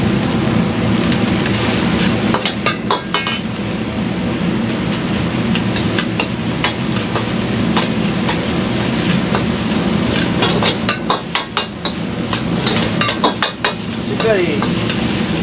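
Fried rice being stir-fried with chopped white scallion in a wok by a veteran Chinese-cuisine chef, with a continuous sizzle, rhythmic metallic scraping and clanking of the ladle, and a few brief spoken words over it.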